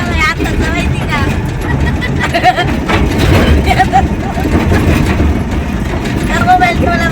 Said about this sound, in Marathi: तेव्हा या गाडीचा आवाज